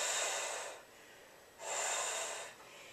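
Two long, close breaths flow through a twisted triangle yoga pose, each a breathy rush of air followed by a quiet pause, with nothing else heard.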